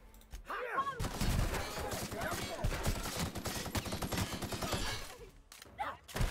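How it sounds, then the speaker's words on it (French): Rapid bursts of gunfire from The Outer Worlds video game rattle on for several seconds in dense, fast volleys, with a voice briefly heard at the start and end. "Et on tire."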